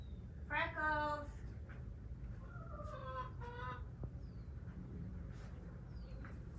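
A hen clucks loudly in a short run of harmonic calls early on, then repeated softer clucks follow while straining to lay an egg, over a steady low hum of background noise.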